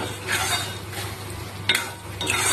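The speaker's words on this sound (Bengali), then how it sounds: "এবার ভালো করে নেড়ে চেড়ে কষিয়ে নিতে হবে।" Spiced okra chorchori being stirred in a pan, soft repeated scraping strokes of a spatula against the pan over a low background hum, with a faint clink near the middle.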